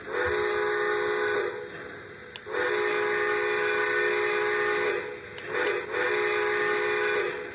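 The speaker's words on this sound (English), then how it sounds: "Here's the whistle." Whistle of a 2017 Lionel Polar Express toy train set, sounding as three sustained steamy blasts, each a few seconds long, loud and close with short pauses between them.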